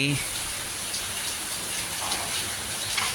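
Steady rain falling all day over a Thai elephant village, a continuous broadband hiss with soft splashing, even and unbroken throughout, with no voices rising above it.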